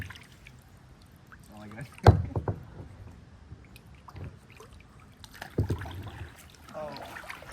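Kayak paddle strokes dipping into clear river water on the Weeki Wachee River, with a few distinct splashes and sloshes spaced apart under casual nearby talk.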